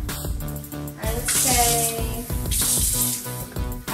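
Water pouring into a cooking pot of squash on a home stove, a splashy rush with a bright hiss in the middle and again near the end, over an underlying musical bed.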